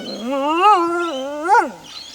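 A lone dingo howls in an open Australian meadow, a drawn-out, wavering wolf-like cry that rises in pitch twice, loud and close, with no other sounds around it.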